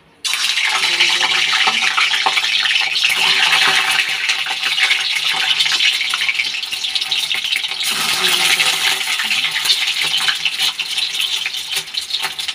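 Egg frying in hot oil in a wok, a loud continuous sizzle and crackle that swells after a brief quiet start and keeps hissing steadily, with no talk heard.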